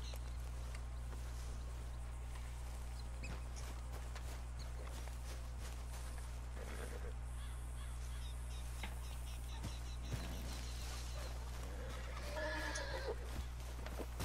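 Horses in the video game Red Dead Redemption 2 whinny and clop their hooves, the calls faint and intermittent over a steady low electronic hum, with scattered soft clicks and a brief whinny near the end.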